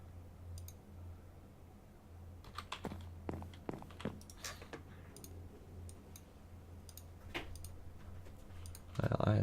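Computer mouse and keyboard clicks during a modded Minecraft Sky Factory session, sharp taps arriving in an irregular cluster near the middle, fairly quiet under a low steady hum, with a louder thump at the very end.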